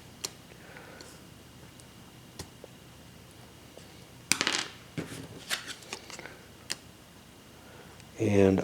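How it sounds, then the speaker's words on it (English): A deck of cards is shuffled during a board game at a table, with scattered soft clicks and riffles and a brief louder burst of card noise near the end. "And I'm going to have to shuffle the deck for a last hop."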